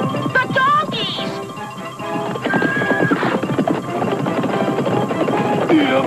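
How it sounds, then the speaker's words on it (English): Cartoon donkeys bray and whinny repeatedly over a busy soundtrack of hoofbeat-like clatter and background effects, the calls loud and close, with no clear talking. "The donkeys!"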